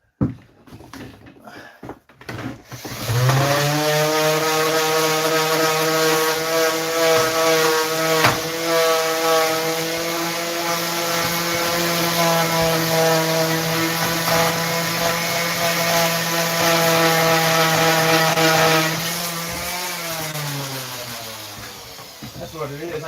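A power sander polishes a wooden stager board, its motor whining loud and steady for about seventeen seconds before spinning down, preceded by brief handling noises.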